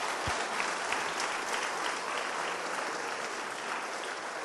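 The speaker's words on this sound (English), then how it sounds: "we want to give you guys a nice warm round of applause real quick for that" A dense, sustained round of applause from an in-house audience at a Gnomon game character creation panel with Naughty Dog, warm and steady throughout, fairly distant and unbroken.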